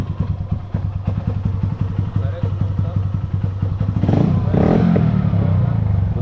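A Yamaha Factor 2022 motorcycle idles close by with a steady low putter that thickens slightly near the end.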